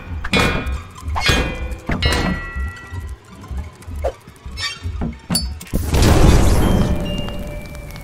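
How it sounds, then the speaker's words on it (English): Exploding spider blowing up in a fire-themed game, heard after a series of sharp thunking impacts, followed by a loud sustained roaring blast near the end. "Oh, there's an exploding spider."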